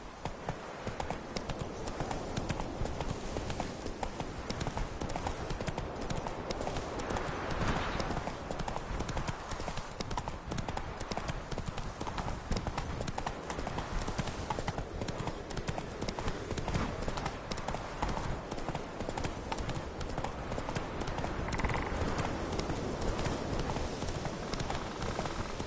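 Roach the horse galloping in The Witcher 3, a steady rapid clip-clop of hooves running continuously and fairly loud throughout, with a faint voice now and then underneath.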